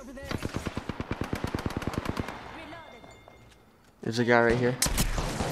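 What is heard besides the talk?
gunshots in the video game Apex Legends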